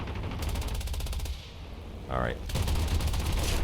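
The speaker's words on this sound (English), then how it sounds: "I need to measure how far away I need to aim with my machine guns." Machine gun fire from a Zero fighter in the War Thunder video game, rapid rhythmic bursts over a steady engine drone, a short gap, then continuous firing, with a brief spoken word in between.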